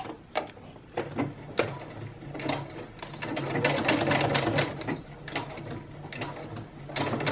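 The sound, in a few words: sewing machine stitching bra underwire casing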